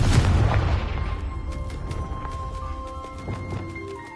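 A Confringo blasting spell explodes in Hogwarts Legacy, a loud deep boom at the start that rumbles and fades over a few seconds into a quieter game ambience with faint tonal music.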